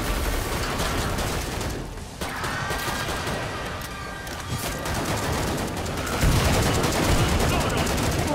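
Rapid, dense gunfire from an online shooter video game, bursts of automatic fire and shots layered over busy in-game noise, loud and near, with a player talking over it.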